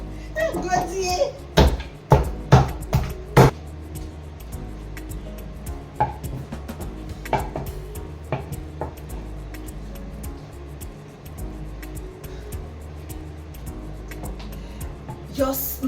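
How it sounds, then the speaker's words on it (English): Fufu made from yam pounded in a mortar, with a run of loud, close, thudding strikes early on, then lighter irregular knocks, while children and adults talk and play nearby. "I am pounding fufu in Italy."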